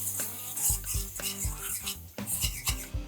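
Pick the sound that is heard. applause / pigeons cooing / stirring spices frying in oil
stirring spices frying in oil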